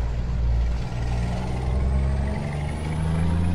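A Scania P-360 truck in Euro Truck Simulator 2 braking while hauling a box trailer, a heavy low engine rumble with a steady hiss on top, loud and continuous.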